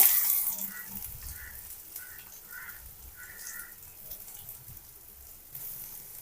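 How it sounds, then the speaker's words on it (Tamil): Fennel seeds tempering in hot oil give off a soft, steady sizzle throughout, with faint tonal sounds drifting in the background and no speech. "கொஞ்சமாக சோம்பு இதை போட்டு தாளிச்சு"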